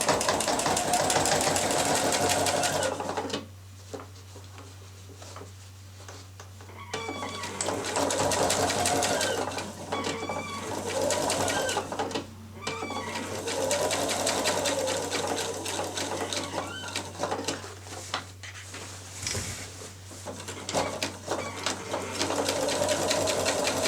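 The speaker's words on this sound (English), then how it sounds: "all I'm going to do is bring my binding over and sew in the ditch." A sewing machine runs almost continuously while stitching quilt binding in the ditch, its close mechanical whirr briefly pausing and resuming a few times, with a faint voice now and then.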